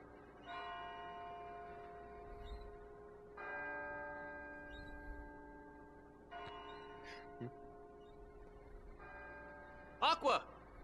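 Bell tones ring out in the Kingdom Hearts Birth by Sleep Final Mix video game, four sustained chimes in a slow steady sequence, each fading before the next, followed by two brief sharp clicks near the end.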